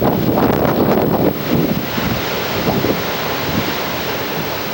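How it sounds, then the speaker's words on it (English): Ocean surf and wind along the shore at Long Beach Island, New Jersey, in the evening make a loud broadband roar with heavy wind buffeting on the microphone and wave wash rising and falling, with no speech. "It's like the ocean's right down there."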